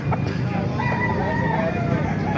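A talisay gamecock crows loudly and nearby in one drawn-out call, at a rooster gathering in Calumpit, Bulacan, with other fowl and a faint murmur of people in the background.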